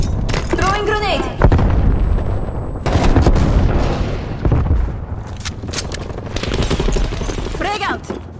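Call of Duty Cold War multiplayer on Nuketown, with heavy gunfire and booming grenade-style blasts, loud and dense, mixed with game voice callouts and player talk throughout.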